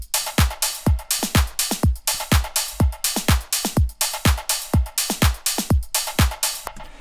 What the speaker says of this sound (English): deep house drums. They sound like this.